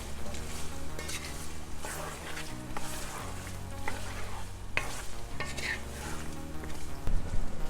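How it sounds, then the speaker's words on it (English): Blended peppers being stirred into a simmering pumpkin stew in a pot, a steady close scraping and sloshing over a continuous sizzle, with faint clinks of utensil against the pot. "Now I'll be adding in my blended peppers. So you can stir them in together."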